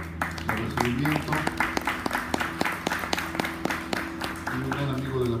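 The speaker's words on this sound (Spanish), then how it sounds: "pido, como siempre, un aplauso de recibimiento" An audience at a book fair lecture claps to welcome the speakers, the claps coming as a rhythmic, fairly close patter while people talk over them.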